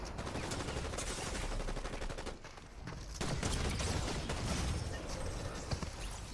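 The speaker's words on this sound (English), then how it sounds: "that's a far-reaching shotgun you got there" Rapid, continuous shotgun and gunfire bursts from a battle-pass shooter video game crackle in dense overlapping volleys, with a brief lull near the middle before the shooting resumes at full intensity.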